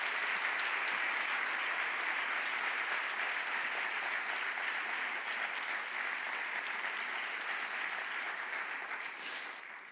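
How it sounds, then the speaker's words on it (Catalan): Theatre audience at a 50th-anniversary school event at Teatre Bartrina in Reus applauding, a thick continuous roar of clapping from many hands that holds steady for nearly ten seconds and begins to fade at the end. "permeteu-me un fort aplaudiment per l'escola i pel record que suposa"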